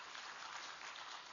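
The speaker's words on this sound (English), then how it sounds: "give her a big applaud" A brief burst of audience applause at a psychiatry oration ceremony in India, steady clapping from a crowd, faint and distant.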